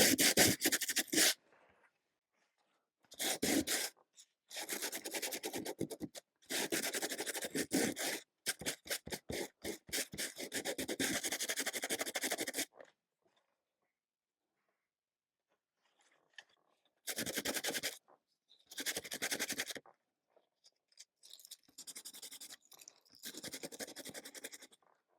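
Rough scraping and rubbing on a recycled journal cover being distressed to strip black color and shine, heard in several bursts of steady abrasive friction with silent pauses between.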